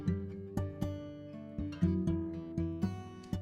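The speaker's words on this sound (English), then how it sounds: "that had these guitar harmonics." Shimmering guitar harmonics from a Spitfire Labs plugin play a slow, gentle phrase of about a dozen plucked notes, each ringing into the next, alone and without speech.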